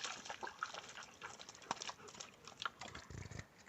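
A dog splashes and wades in muddy reservoir water in a Spanish mountain nature reserve, giving scattered close slaps, drips and sloshes with a brief heavier splash near the end.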